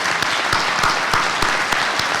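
Audience applause for the police department during a 2025 State of the City address, a brief, steady patter of many hands with a few distinct sharp claps punctuating the sound at regular intervals.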